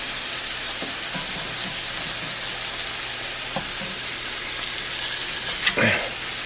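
Pre-cooked sausages sizzle in a cast iron pan with a steady crackling hiss, broken by a few soft clinks and a scrape near the end.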